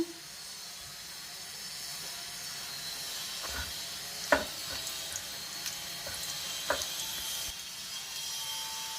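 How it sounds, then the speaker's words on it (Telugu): Cinnamon, cloves and cardamom sizzle in hot oil with a steady, close frying hiss, broken by a few sharp pops and crackles as the whole spices hit the oil. "ఇప్పుడు చెక్క, లవంగం, ఇలాచి వేస్తున్నా."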